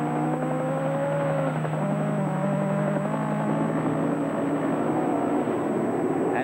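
Fiat 131 rally car engine revving hard on a rally stage, a loud continuous roar with rising and falling pitch sweeps, close and sustained with no pause throughout.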